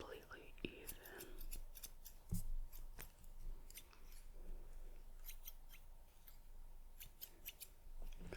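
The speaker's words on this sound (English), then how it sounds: "Just trimming really slowly." Salon scissors snip through hair in slow, repeated close-up cuts, with crisp metallic clicks spread across the span and soft whispered talk underneath.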